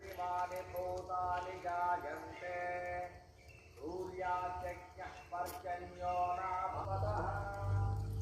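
Horse hooves clip-clop at a riding practice ground in Neduvathur, Kottarakkara, Kerala, mixed with voices and a steady murmur that stays fairly loud throughout.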